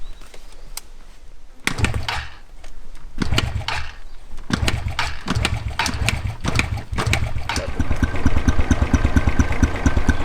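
Motorbike engine in the bush starting up and idling, a rapid puttering that begins after some clunks and grows steadier and louder toward the end, close to the microphone.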